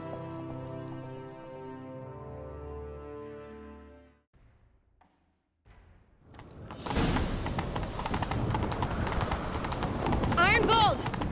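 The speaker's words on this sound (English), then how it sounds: "Grab a horse, we'll chase him down." Rhythmic clip-clop of horse hooves pounding at a gallop in The Witcher 3: Wild Hunt, under loud, busy action noise and a brief whinny, after a stretch of music and a quiet pause.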